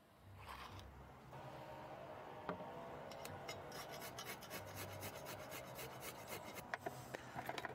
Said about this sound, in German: darauf reiben wir jetzt noch ein wenig Knoblauch